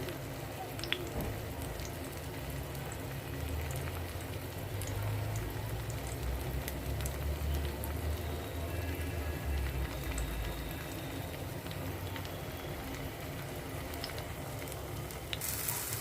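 Suran (yam) patties sizzling steadily in an oil-filled pan, a soft continuous crackle and hiss that holds at an even, fairly quiet level throughout with no talking.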